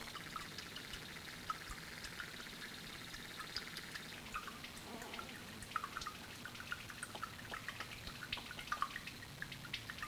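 Thick gunk drips and trickles steadily from an old 1962 AMC Rambler engine into a filling pan. The irregular, faint patter and splashes run on continuously, with no speech.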